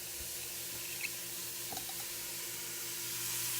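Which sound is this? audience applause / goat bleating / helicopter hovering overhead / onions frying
onions frying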